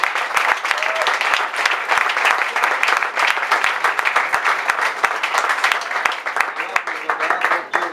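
Loud, sustained applause from an audience for a keyboardist at a trio concert, many hands clapping in a thick continuous wash with individual claps standing out, running through the whole stretch without pause.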